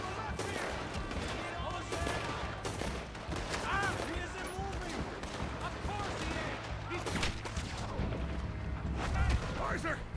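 Rapid bursts of gunfire during a bank robbery shootout in Red Dead Redemption 2 crackle continuously over a dense layer of battle noise, with voices talking underneath.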